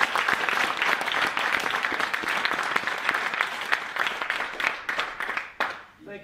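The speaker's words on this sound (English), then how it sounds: "a big round of applause for Stephen." An audience at a finance meeting gives a sustained round of applause, steady dense clapping at close range that tapers off sharply at the end.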